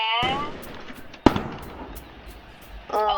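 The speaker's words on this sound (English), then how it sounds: "Oh, and the firework and cakes do the exact same thing." Fireworks burst in the Roblox game Build A Boat, a sharp crack standing out among crackling, fizzing pops and hiss, with a brief voice at the start and end.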